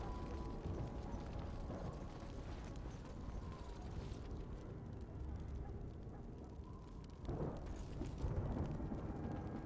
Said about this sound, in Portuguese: E essa tempestade super real.